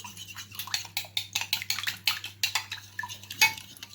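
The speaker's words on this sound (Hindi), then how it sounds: "इन्हें हम अच्छी तरह से मिक्स कर लेंगे चम्मच की मदद से।" A metal spoon clinks and scrapes repeatedly against a bowl while mixing an onion mixture with oil, a quick uneven rhythm of close, bright taps.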